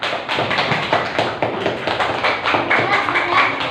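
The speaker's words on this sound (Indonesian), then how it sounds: "Beri tepuk tangan." Schoolchildren in a classroom give a round of applause after a group presents its lesson results, a quick patter of claps throughout with faint voices mixed in.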